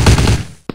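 Video game gunfire in a Wild West mutant-war shooter: a fast rattling burst of shots that fades out, then two sharp separate cracks close together at the end, loud and with no talk.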